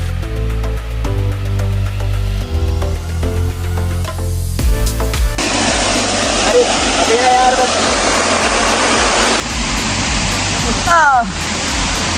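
A rushing waterfall reached along a slippery rocky path, roaring loud and steady after a stretch of background music, with a voice calling out over the constant spray.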